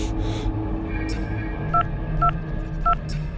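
Telephone keypad tones as someone dials for an ambulance, three short paired beeps spaced out after a brief burst of noise, over a low background hum.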